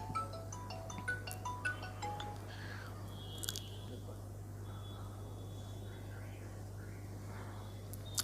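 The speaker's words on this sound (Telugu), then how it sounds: "చూడండి ఎవరిదో ఫోన్." A mobile phone ringtone sounds during a church sermon, a short melodic run of bright notes for a couple of seconds before giving way to a low background hush.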